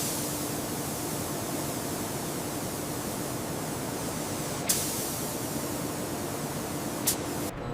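Robotic sprayers coat a crane structure in industrial yellow paint with a steady, even hiss of spray, continuous and fairly close, broken only by two faint clicks.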